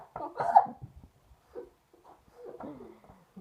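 A short, sharp hiccup jolts out near the start, followed by soft breaths and quiet voice sounds nearby.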